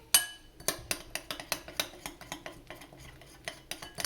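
A spoon briskly stirs mayonnaise mixed with chili sauce in a bowl, producing a steady run of close, sharp clinks and scrapes about every quarter second, with no voices.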